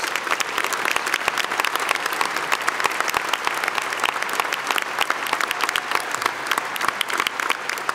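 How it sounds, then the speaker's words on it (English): A large luncheon crowd at Ford Field in Detroit applauds youth football players and cheerleaders, sustained thick applause washing evenly through the space without a break. "Let's give them a big round of applause."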